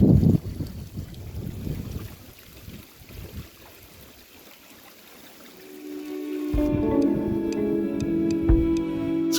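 Bitterly cold wind at the northernmost point of the UK mainland, heavy gusts buffeting the microphone before easing, then a steadier rushing blow with faint tonal whistling.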